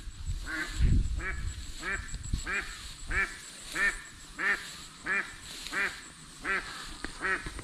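Domestic ducks quack over and over in a steady rhythm, loud and close, with a few deeper honks early on, beside a fishpond.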